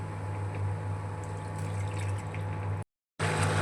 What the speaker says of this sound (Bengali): এরপরে জল অ্যাড করব।